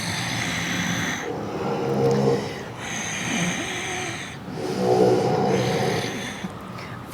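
A person snores in the middle of a yoga class, with three long rasping inhalations at a steady rhythm, close and moderately loud, and quieter pauses between them.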